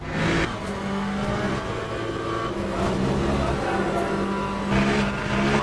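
Corvette Z06 LMGT3.R race car in Le Mans Ultimate at Spa, its engine droning steadily at high revs with shifting tones, loud and continuous throughout.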